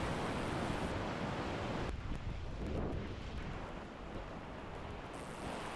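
River rapids on the Middle Fork of the Salmon River at low flow give a loud, continuous roar of churning water, close by, with wind buffeting the microphone at times.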